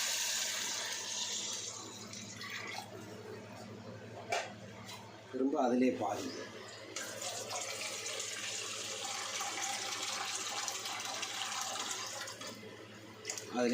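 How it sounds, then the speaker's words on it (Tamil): Water pours and splashes into a pot of rice for biryani in a steady stream, with a brief gurgle partway through, while a person speaks over it. "அந்த அளவுக்கு முதல் தண்ணி ஊற்றுறேன்"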